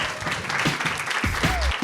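Applause from a live podcast audience fills the moment, a loud continuous wash of clapping with a voice faintly audible underneath.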